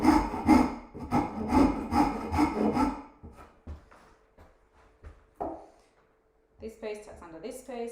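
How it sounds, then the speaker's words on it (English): A rasp shapes a cypress wood carving, giving rhythmic rough scraping strokes up close for about three seconds, then a few light scrapes and knocks before a person starts talking. "Coming in with my rasp."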